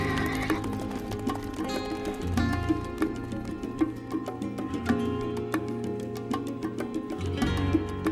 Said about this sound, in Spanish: Caballos utilizados para el transporte y la guerra.